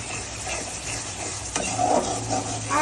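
A Bengali masala is stir-fried in oil in a pan for koi fish bhuna, with a continuous loud sizzle and scraping spatula strokes, plus a sharp scrape partway through.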